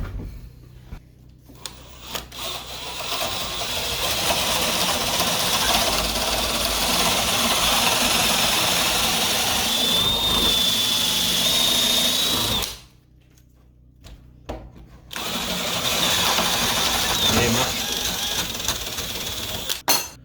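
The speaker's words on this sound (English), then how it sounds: "When doing the hole saw, it's important not to go all the way through the door." A power drill with a hole saw grinds steadily through a wooden door at close range, pausing briefly near the end before starting again.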